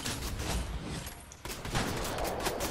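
Sustained volleys of gunfire in a Fortnite match, dense and continuous throughout with a louder burst partway through, no talking.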